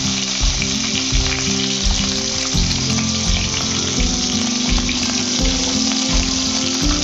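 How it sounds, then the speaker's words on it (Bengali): Fish head fries in hot oil with a loud, continuous sizzle. Steady low humming tones run underneath throughout. "মাছের মাথাটা ভাজা হয়ে গেছে"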